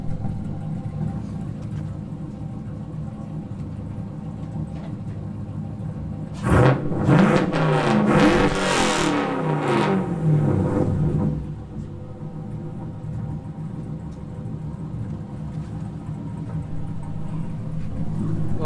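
An LS1 V8 in a Nissan S13 drift car idles with a low rumble, then gets a loud, sustained rev lasting several seconds before dropping back to a steady idle; no talk.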